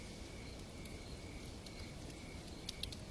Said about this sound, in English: The cicadas and the owls and other nighttime animals.